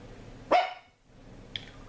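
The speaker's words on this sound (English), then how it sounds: "You don't even know what you're barking at." A single sharp dog bark rings out close by in a quiet indoor room, followed by a faint short yip or squeak.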